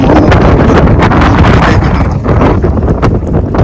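Strong wind roars and buffets the microphone continuously, a loud, steady rumble with gusty surges throughout.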